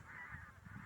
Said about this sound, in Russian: Это, наверное, стая 10-я, гуся идет.